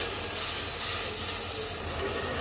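Spice masala frying in a pan after a splash of water for a potato and soybean curry, giving a steady, close hiss of sizzling steam throughout, with no voices.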